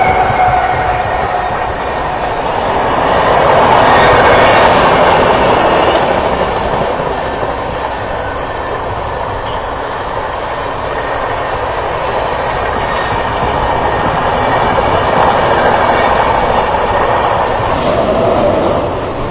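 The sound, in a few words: Patna Kota Express train overtaking alongside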